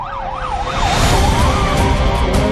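A fire engine siren on an emergency fire dispatch wails up and down in steady sweeping cycles, loud and close over the rumble of the moving vehicle, with no voices.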